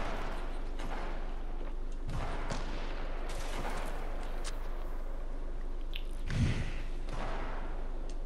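A video game firefight plays out, with a sustained rattle of gunfire and bursts of shots. A couple of heavier thuds stand out, and no one speaks over it.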